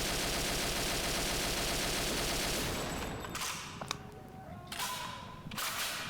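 Type 89 assault rifle firing in the Operation 7 video game, a long, steady, loud automatic stream of shots that gives way to a few separate single cracks and clicks.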